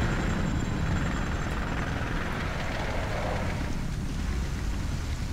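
A helicopter in the PC shooter BlackSite: Area 51 gives a steady, loud, broadband rotor roar that holds without a break for the whole stretch, with no voices over it.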